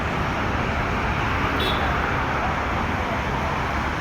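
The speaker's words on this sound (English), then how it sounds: "Listen to the traffic, so much of traffic." Road traffic noise fills the air as a steady, dense roadway rumble of passing cars and vehicles, fairly loud and continuous, with no clear voices.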